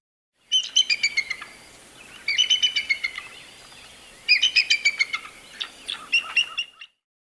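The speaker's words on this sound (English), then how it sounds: "bald eagle" Bald eagle call: three bursts of high, thin chittering notes in quick stuttering series with a squealing quality, followed by a shorter trailing run, clear and close with no other sound.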